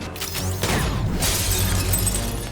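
A pane of glass shot out by Silver Sable in a Spider-Man film, shattering loudly with a sharp crash and a tinkling cascade of falling shards, with no speech.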